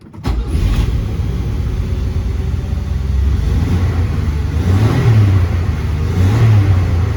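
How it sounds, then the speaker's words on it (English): A 1961 Renault Dauphine with a poorly set choke cranks and its engine catches, running and revving unevenly in a steady, loud, close drone with a couple of rising surges toward the end. "May have a little bit of starting issues because of the choke not being set right, but we'll at least give it a shot here."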